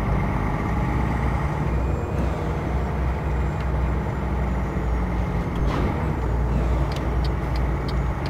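An International 9800 cabover truck drives in American Truck Simulator with a steady, loud engine drone and road rumble, broken by faint clicks and ticks, and nobody talks.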